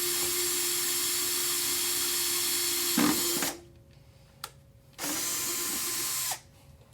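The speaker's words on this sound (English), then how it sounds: "I just have a drill and drill bit, and I just drilled some of the holes" A power drill bores holes into the firewall of a Jeep Cherokee XJ/MJ during a cowl intake install. It whines loudly and steadily in two close bursts, the first about three seconds long, separated by a quiet pause and a faint click.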